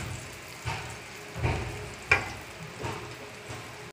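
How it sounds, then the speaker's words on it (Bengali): Eggplant frying in a pan, a steady low sizzle with a few soft stirring or turning thumps spaced about a second apart, heard close and alone. "আমি বেগুন ভাজা খুব পছন্দ করি, তো তাই ভাজতেছি।"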